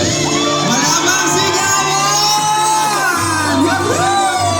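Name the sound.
wedding crowd shouting and cheering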